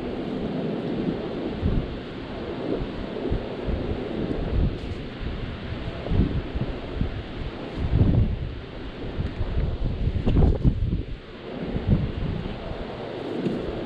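Strong wind roars steadily against the microphone throughout, by a river while fishing, with low buffeting gusts surging and fading, loudest in bursts toward the end.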